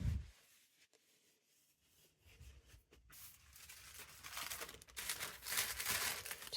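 Scrap paper rustles and crinkles while wiping oil-based printmaking ink, the soft scraping faint at first, then growing into louder, denser crumpling toward the end.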